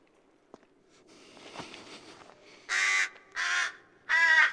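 Three loud, harsh crow caws in quick succession after a stretch of quiet rustling and a faint thump.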